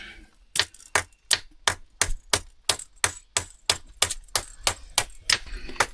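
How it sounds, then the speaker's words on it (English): A metal nut on a hanger bolt in an old cave is struck with a tool, a steady run of about seventeen sharp ringing metallic whacks at a quick even pace, close and loud, with no voices. "I think I whacked the nut a few times and made it change size."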